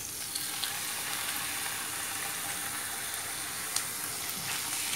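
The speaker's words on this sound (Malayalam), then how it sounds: "നമുക്കിനി ഇതിലേക്ക് ചെറുതാക്കി മുറിച്ച് വെച്ചിരിക്കുന്ന കണവ ഇട്ട് കൊടുക്കാം" Chopped squid frying in a pan with onion and ginger for a coconut stir fry, a steady faint sizzle crackling evenly throughout with a few small pops.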